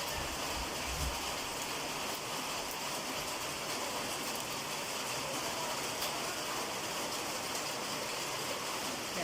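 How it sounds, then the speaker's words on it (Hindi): Heavy rain pours in a dense, constant hiss, loud and unbroken throughout, with no other sounds standing out. "बहुत तेज़ हो रही है बारिश।"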